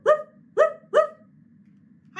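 A dog barks three times in quick succession, loud and close, followed by a pause and the start of a fourth bark at the end.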